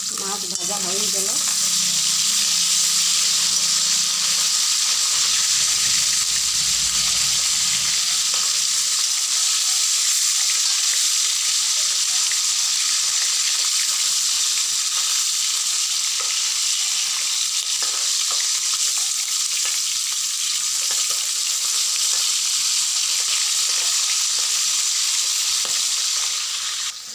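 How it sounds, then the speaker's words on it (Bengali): Fish coated in turmeric and salt fries in hot oil in a wok, a loud, steady sizzle and crackle that runs unbroken and close up, with occasional faint stirring scrapes and no speech. "মাছ ভাজা হয়ে গেল।"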